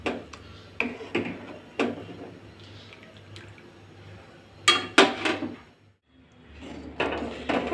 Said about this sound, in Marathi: याला चांगल्यापैकी हलवून घेऊया.